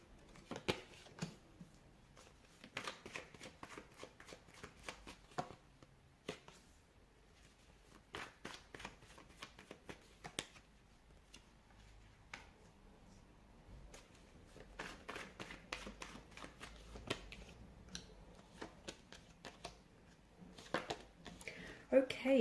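Tarot cards being shuffled close by: repeated light riffling and flicking bursts come in uneven clusters over a quiet room tone, with a final louder run of snaps at the end.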